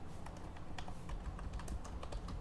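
Computer keyboard typing of a gdb debugger command, a steady run of close, crisp key clicks filling the stretch with no voice over it.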